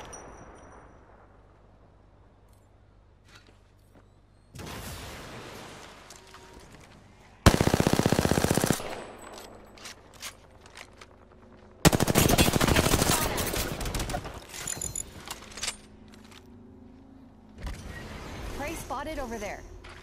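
Gunfire in the Apex Legends video game comes in several sustained, loud bursts of rapid automatic fire and heavy impacts over a rumbling game background, with a voice speaking in between.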